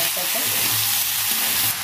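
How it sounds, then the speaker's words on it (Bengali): Shredded cabbage frying in a pan together with potato, flat beans and cauliflower for vegetable khichuri, a loud continuous sizzle with stirring scrapes and no talking. "বাঁধাকপিটা একটু ভেজে নেবো একসাথে"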